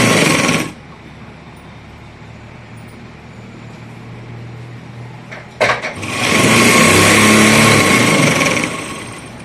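A sewing machine stitches a firm seam on a suit, its motor whirring steadily at moderate loudness, with a brief clack before it speeds up into a louder, faster run.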